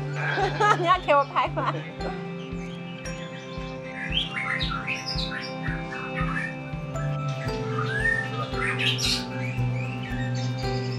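Caged birds chirping and squawking in a bird cage repair shop, with a rapid run of calls at the start and scattered tweets throughout over a steady low hum and rhythmic ticking.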